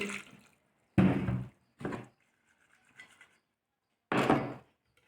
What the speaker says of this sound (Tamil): இப்போ இதுக்கு தேவையான அளவுக்கு தண்ணி